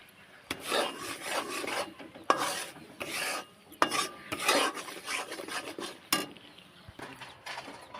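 Peanuts and sesame seeds being stirred into melted jaggery for chikki, giving repeated rough scraping strokes of a spoon against the pan in an uneven rhythm, close and fairly loud.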